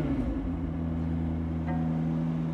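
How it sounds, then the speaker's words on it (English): A McLaren 750S Spider's engine running just after start-up: a steady, deep idle drone with a low hum and no voices over it. "This is what it sounds like to start the Mclaren 750S."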